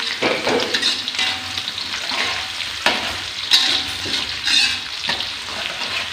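Shallots sizzle and crackle as they fry in a pan during home cooking, a steady broadband hiss close up with occasional sharper pops and bursts, no voices.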